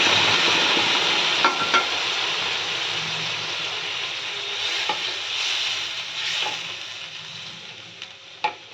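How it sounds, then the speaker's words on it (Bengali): Hot water hits a sizzling spice paste for a fish curry, giving a loud, steady hiss and frying crackle that slowly settles, with a few sharp clinks and stirring knocks scattered through, and no talk. "এই জলটা, গরম জলটা আমি এর মধ্যে ঝোল হিসেবে দিয়ে দিলাম।"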